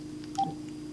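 Brief dialing tones from an old telephone, a short burst of two or three tones standing out once over a steady low hum in a quiet room.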